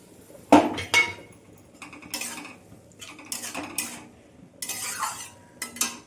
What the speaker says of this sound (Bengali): মশলাটা আমি এখন কষিয়ে নেব।